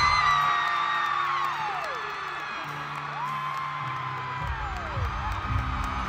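Filipino fans scream and cheer almost nonstop at a British pop star's concert at the Philippine Arena, a dense crowd roar with rising and falling whoops and shrieks over amplified music.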